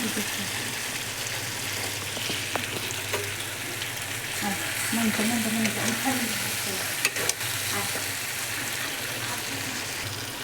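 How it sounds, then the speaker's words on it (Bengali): Onion fries in a pan for Bengali chicken kosha, making a steady, fairly quiet sizzle with occasional spatter and stirring clicks and a low background hum. "পেঁয়াজ দিয়ে হালকা করে ভেজে নিতে হবে"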